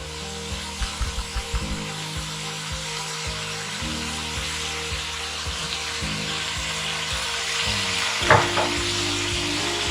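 Hakka noodles stir-fried and tossed in a pan: a loud, steady frying hiss over a low hum, with rhythmic scraping strokes of mixing and one sharp clank near the end.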